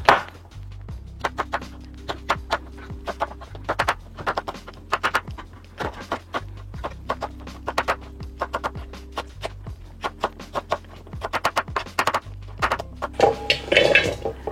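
Knife chopping colored bell peppers (capsicum) on a board for paneer curry, a quick repetitive series of sharp close taps in bursts, with a faint steady hum beneath and louder clatter near the end.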